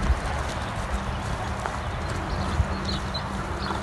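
A tall horse walking nearby, its hooves giving soft clip-clop steps over a steady outdoor wind-like rumble.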